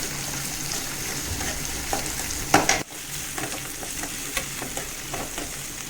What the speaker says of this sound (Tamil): தக்காளி, ஸ்டவ்வை வந்து ஃபுல் ஃப்ளேமில் வச்சு வதக்கிக்கிறேன்.